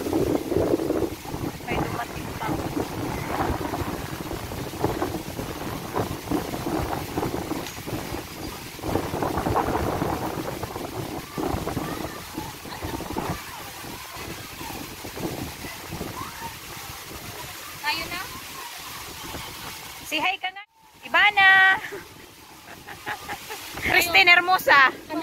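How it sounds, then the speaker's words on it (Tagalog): Strong gusty sea wind on an island buffets the microphone in a continuous low roar, with faint voices and brief louder bursts near the end. "Grabe, ang lakas ng hangin."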